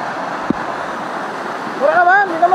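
Water rushes steadily at a fishing spot, a loud broadband wash of flowing water running throughout with a brief knock near the start, while a voice speaks over it toward the end.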